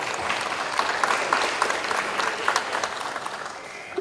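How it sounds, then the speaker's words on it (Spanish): A conference audience applauds steadily for a speaker for several seconds, dense clapping from many hands filling the room at a moderate level. "La recibimos también con fuertes aplausos."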